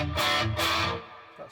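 An electric guitar played through a boost pedal rings out in two loud, bright strummed bursts, each sustaining briefly before fading, followed by a softer note near the end.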